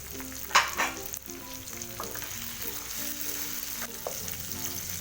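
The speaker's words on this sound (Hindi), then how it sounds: "ये भेजा हमने इसमें मसाले में डाल के इसको अच्छी तरह फ्राई कर लेंगे, भून लेंगे खूब" Sheep brain (bheja) frying in a masala, a steady close sizzle with scraping stirs and a few sharp clinks of a utensil, no talk.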